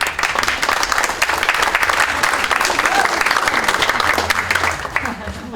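A bookstore event crowd in Toronto claps loudly and continuously, a close, dense wash of many hands holding at full strength before easing slightly at the end, with some voices mixed in.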